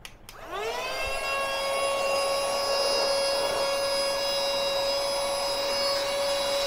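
A budget portable vacuum cleaner whirs up steadily as it cleans dog hair, a bright sustained motor whine with strong tonal harmonics that rises in pitch at start-up and then holds loud and constant, alone.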